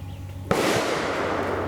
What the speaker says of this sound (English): What I'm going to be shooting today is 405 grain 4570s from PPU